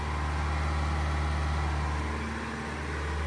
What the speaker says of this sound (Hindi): XUV 700 का डीजल 2300 RPM में रेव होता है कंटिन्यूसली, तो इतना आवाज़ करता है बाहर से